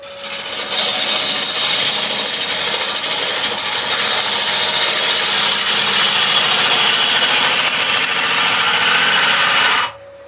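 Wood lathe roughing out a burr bowl, with the tool cutting into the spinning wood. A loud, continuous scraping hiss rises in at the start, holds steady for about nine seconds and stops abruptly, with no talk.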